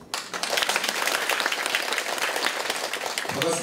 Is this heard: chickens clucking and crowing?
no